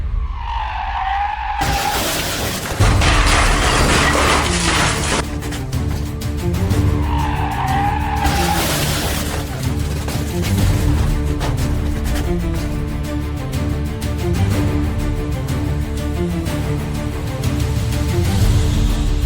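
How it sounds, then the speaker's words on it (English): Tires squeal loudly as a car skids, then a sudden heavy head-on crash with another car, followed by ongoing engine and road noise. "Head-on crash with another car."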